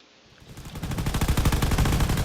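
Point defense guns in the Drone Wars space combat game fire at incoming missiles, a dense rapid-fire rattle that starts faint, quickly swells, then holds loud and continuous.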